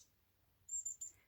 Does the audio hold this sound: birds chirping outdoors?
yes